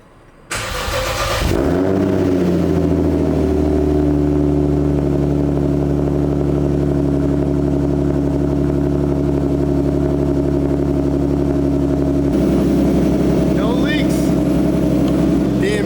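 A BMW E30 with a forged turbocharged M50 engine cranks and catches, then settles into a loud, steady idle with a deep rumble that holds throughout, some faint talk underneath.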